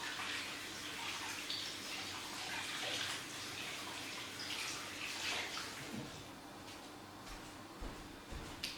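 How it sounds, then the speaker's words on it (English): Hands being washed under a running tap gives a steady, close rush of water with splashing that varies as the hands move, alone with no talking. "Alright, I'll just wash my hands off."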